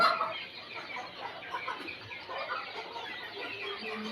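Fayoumi chickens cluck softly and continuously, several birds close by murmuring in a confined space.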